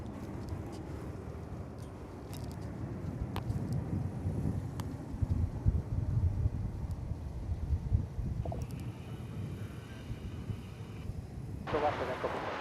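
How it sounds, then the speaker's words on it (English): A Finnair Airbus A350-900 takes off from Dallas/Fort Worth Airport and is heard as a broad, distant jet roar under wind noise, with a person talking over it. "the Finnair A350-900 winging its way to Helsinki."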